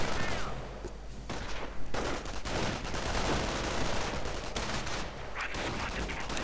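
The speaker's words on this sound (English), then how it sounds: "for some reason the riflemen are actually firing on the tank traps" Riflemen in a Company of Heroes style strategy game fire in dense, overlapping volleys of rifle and machine-gun shots, with steady crackling battle noise throughout at moderate loudness.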